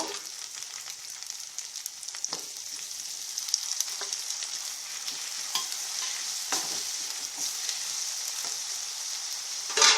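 Long strips of eggplant sizzle and crackle steadily in a hot pan for North Karnataka barta, with occasional stirring scrapes breaking through the continuous frying hiss.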